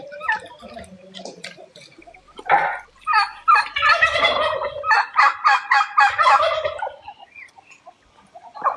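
Domestic turkeys gobble repeatedly in a loud, bubbling chorus close by, with bursts of rapid warbling calls rising and falling over several seconds and no talking.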